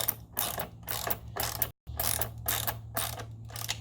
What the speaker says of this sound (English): put in the bolt back on, and then just start the screwing again